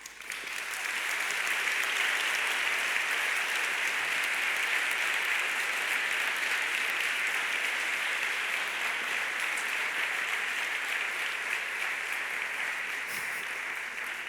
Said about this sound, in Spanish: es el momento de que guardemos otro aplauso